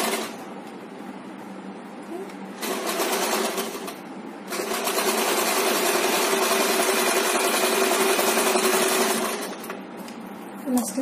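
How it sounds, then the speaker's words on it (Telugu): A sewing machine stitching a chudidar gathering pant runs in close, loud bursts: a short run, a brief pause, then a longer steady stretch of rapid whirring that slows and stops near the end. "ఇలా స్టిచ్ చేసిన తర్వాత మనం పైన కూడా ఒక స్టిచ్ చేసుకోవాలి."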